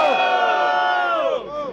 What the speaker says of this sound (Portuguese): Mão pro outro, muito barulho para Kirush!